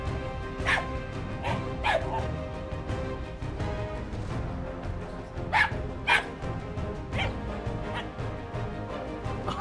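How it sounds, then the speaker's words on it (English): A dog barks several times in short, scattered bursts, some sharp and close, others softer, with quiet background noise between them. "Oh, there you are, Mr. Delivery Pup."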